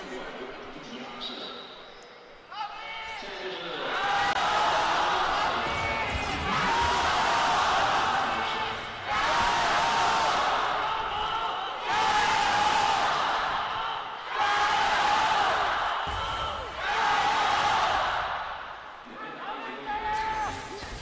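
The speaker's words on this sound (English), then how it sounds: "Crowd in full spirits here, Grapes" A packed esports arena crowd in Shenzhen at an LPL playoff upper final cheers in rhythmic, swelling waves, roaring in repeated surges every few seconds that fill the hall loudly.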